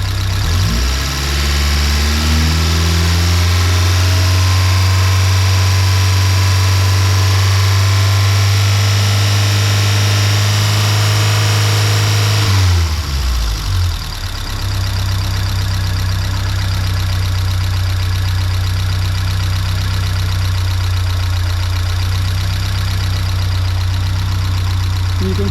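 Fiat 124 Spider 2000 engine idling steadily up close, loud and continuous, with its pitch shifting slightly about halfway through as the idle changes.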